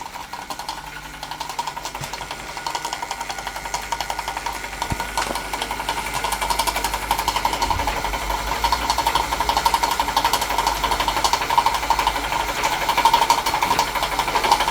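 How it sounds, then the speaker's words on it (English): A small model steam engine driving a miniature grinder chugs steadily with a continuous mechanical whir and rattle, running alone at close range. "probably could do with the grinder going a bit faster"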